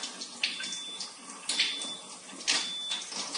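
Water streams from the hose of an Enagic Kangen Water unit, a steady close splashing flow with a few louder gushes and faint mechanical tones.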